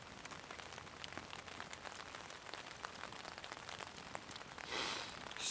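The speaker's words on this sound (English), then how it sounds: "The crackle of the fire and the rain on the tarp," Steady rain patters on a tarp shelter in woodland, a dense even hiss of drops throughout, swelling briefly louder near the end, with no voices.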